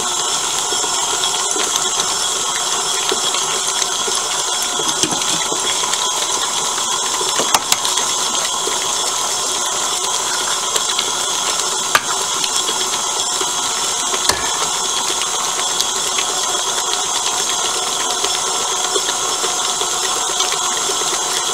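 Electric mixer beating choux pastry dough with eggs, a continuous close motor whir with a steady tonal hum and occasional faint knocks, running unchanged for the whole stretch without speech.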